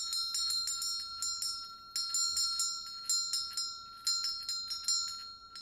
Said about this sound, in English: pointing out how loud the bell is